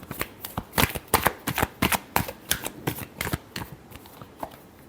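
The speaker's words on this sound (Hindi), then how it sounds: "last shuffle" Tarot cards are shuffled by hand in a rapid run of crisp riffling bursts, close and clear, with no voices.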